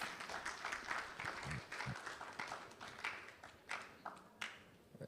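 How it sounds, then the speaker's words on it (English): Scattered audience clapping at a World Food Safety Day event and food safety policy launch, uneven and thinning toward the end into a few isolated claps, faint and somewhat distant. "Another round of applause for Prof."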